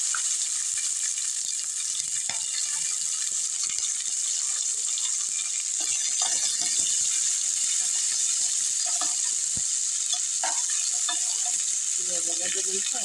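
Sliced onion sizzles in hot oil in a pan for rice upma, a steady close frying hiss with occasional faint clinks of stirring throughout.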